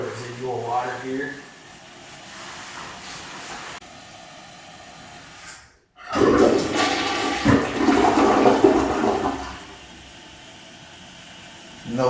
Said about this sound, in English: So just flush it once, and she fills right up.